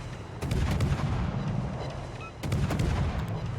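Heavy naval guns boom in repeated salvos of high-explosive shells during a World of Warships match, loud and continuous, with dense rumbling blasts and sharp reports layered closely together and no voice over them.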